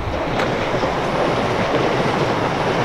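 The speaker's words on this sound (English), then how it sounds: "oh, the train." Train passing close to a coastal walking trail between Bray and Greystones in Ireland, a loud steady rumble and rushing roar with faint rhythmic clatter throughout, no voices over it.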